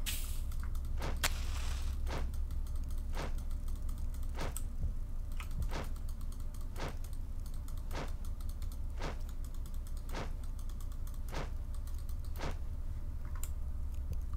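Computer keyboard keys clicking at a steady rhythm, about one sharp tap every second over a constant low hum, close and fairly quiet, with no talking.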